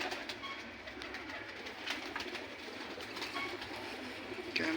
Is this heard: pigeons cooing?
yes